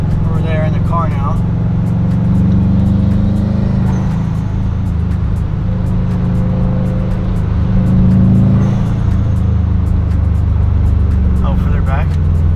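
A car drives past during a cinematic rolling-shot film shoot in cold weather, its steady low engine rumble continuous and fairly close, with people talking over it throughout.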